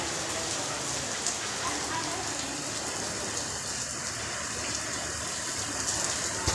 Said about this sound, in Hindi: ये बहुत ज़्यादा रेन है